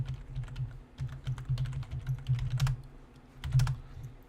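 A command typed on a computer keyboard, with a close, steady run of clicky keystrokes in uneven bursts and brief pauses, no voice over it.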